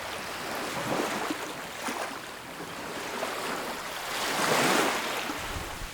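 Ocean surf along the Rodrigues coastline in the Indian Ocean, a steady broadband wash of waves with a swell of louder surging near the end, continuous and fairly near with no voices.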